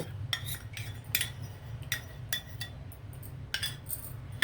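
A spoon scrapes and clinks steadily against a pan as bread custard is stirred over low heat, repeated strokes in an even rhythm with a low background hum, close and with no talk.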